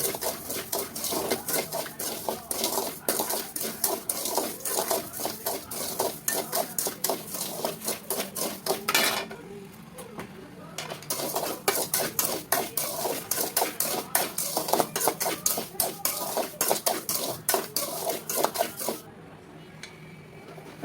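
A spoon scrapes rapidly and rhythmically through Tirunelveli halwa with ghee and a cup of sugar in a pan, a dense run of quick stirring strokes with two brief pauses before the stirring resumes.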